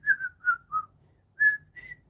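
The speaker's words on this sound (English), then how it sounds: "Just whistling away." A person whistles a short tune of six quick notes, close and clear, with a brief pause midway.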